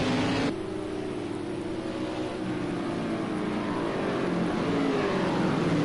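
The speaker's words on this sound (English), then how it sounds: "They can hear the cars go by" Steady loud roar of kart racing engines throughout, with a sharp change early on, then engine noise sweeping by continuously at a distance.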